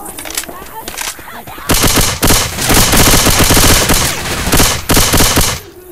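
Loud, rapid automatic gunfire from Left 4 Dead 2 fills the scene in sustained bursts with short pauses between volleys, close and dense, over a quieter opening stretch.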